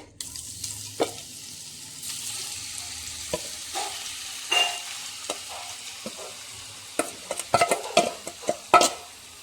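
Marinated liver sizzles in hot coconut oil in a pan, with a steady frying hiss under intermittent scrapes and clinks of a spoon stirring against the metal, growing busier toward the end.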